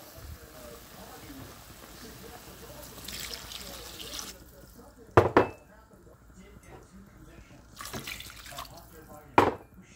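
Water poured into a cooking pot of simmering broth, a steady splashing pour in the first few seconds followed by sharp clanks of pot or utensil and soft kitchen rustling, with no one talking.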